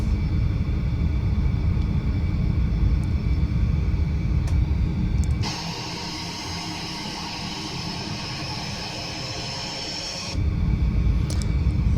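Inside the cockpit of an Eclipse 550 jet on approach, a steady loud engine and airflow roar shifts abruptly to a thinner, hissier rush for about five seconds as the landing gear extends, then the deeper rumble returns.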